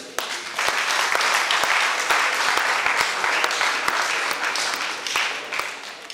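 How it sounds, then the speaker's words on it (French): Steady, dense applause from the founding members of a political party in Benin, a sustained crowd clapping at an even level throughout, with sharper individual claps popping out above the wash. "Et je voudrais que les membres fondateurs initiaux de Moelle Bénin applaudissent pour eux-mêmes."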